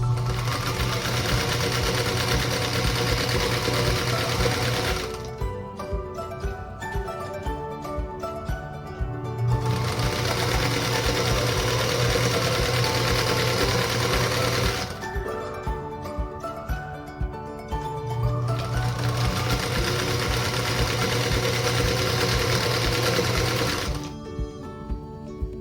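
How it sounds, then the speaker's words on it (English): A sewing machine chain piecing quilt block pieces, stitching in three long loud whirring runs separated by short pauses with small clicks and handling noise, close and steady without talk. "we'll go back through and sew 1/4 inch on the opposite side of that marked line. And again, I'll chain piece these"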